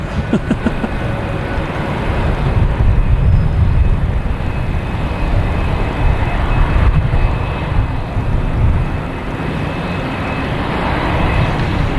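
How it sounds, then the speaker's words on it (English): A loud, broad jet roar rumbles steadily, rising and swelling slightly over several seconds as a large airliner comes in to land fairly close at Boston Logan Airport. "we have Air France coming in on the left"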